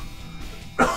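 A single short, harsh cough near the end, close and fairly loud after a quiet room tone, with no talking.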